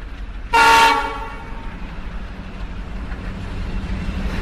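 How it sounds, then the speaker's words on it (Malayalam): A departing train sounds one loud, short horn blast that quickly fades, leaving a low rumble of the train moving off in a village setting. "ട്രെയിൻ ദേ പോകുന്ന, ട്രെയിൻ അനങ്ങുന്നു."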